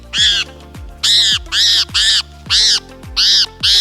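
A wild hook-billed bird, such as a parrot, cockatoo or raptor, gives six loud, harsh squawking calls in quick succession while being caught and handled, each call short and grating with brief gaps between.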